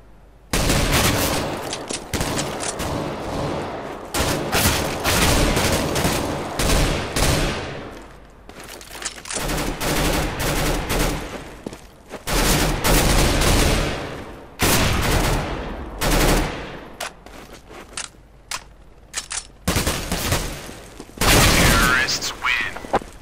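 Close, loud bursts of rifle and machine-gun fire in a competitive CS:GO round on de_dust2, coming in repeated volleys with short pauses between them, while players talk over the shooting.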